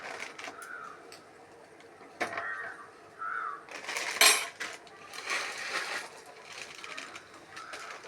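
Maggi noodles are stirred in a pot with a spoon, giving irregular metallic scrapes and clinks against the pan, one sharper clink near the middle, over a quiet background.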